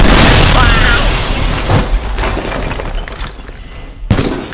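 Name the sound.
explosion in the video game Teardown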